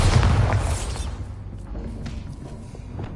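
A Bombardo spell explodes in the video game Hogwarts Legacy: a single loud, deep boom that rolls out and fades over about two seconds, with no talking.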